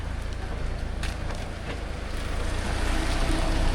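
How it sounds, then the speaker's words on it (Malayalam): Light rain falls steadily during a family holiday outing in cold weather, a dense, even hiss that stays constant and fairly loud throughout, with no clear voices. "ചെറിയ രീതിയിൽ മഴയും പെയ്യുന്നുണ്ട്"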